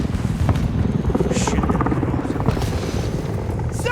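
A helicopter from the Modern Warfare 2 Remastered game rumbles and thumps with a dense, loud rotor beat under battle noise and a speaking voice.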